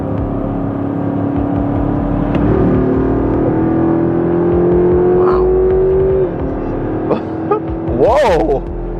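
A twin-turbo Dodge Viper accelerates hard on a highway after a crisp downshift, a loud sustained engine drone rising in pitch across the stretch with a brief whine near the end.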